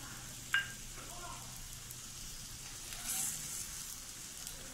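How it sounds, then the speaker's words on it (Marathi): A green pea paratha sizzles in oil on a pan over medium heat, a soft steady frying hiss with one sharp clink near the start and a slight swell later on; no voices. "मस्तपैकी आपला पराठा आता छान खरपूस भाजला जातो आहे."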